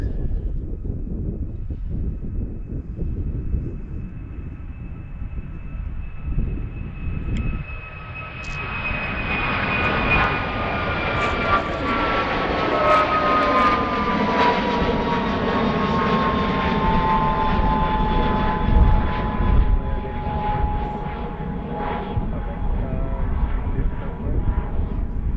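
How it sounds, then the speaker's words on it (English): A UPS Boeing 767 jet departs Philadelphia bound for Oakland, its engines swelling from quiet into a loud, rising roar with a falling whine as it passes close, then rumbling on at full power. "This is the UPS 767 headed to Oakland."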